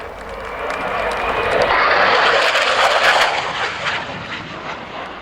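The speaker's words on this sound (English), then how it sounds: "Please give Jonny a wave as he makes his final pass at 100 feet and 450 miles per hour" RAF Eurofighter Typhoon jet making a final low pass at about 100 feet and 450 mph at an air day, a loud roar swelling to a peak then fading as it passes, with crackling engine noise.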